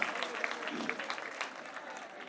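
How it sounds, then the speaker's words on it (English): Clapping at an annual day celebration for the Sun Foundation, dense and steady for a couple of seconds, heard at a moderate distance with the murmur of the room around it. "please clap your hands for your good self"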